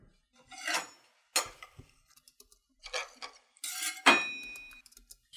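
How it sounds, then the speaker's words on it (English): Short knife sound effects for an edited fight scene: a series of sharp, separate metallic swishes and scrapes. The final burst rings on with a bright, lingering metallic tone before fading. "Just grab that little knife noise right there."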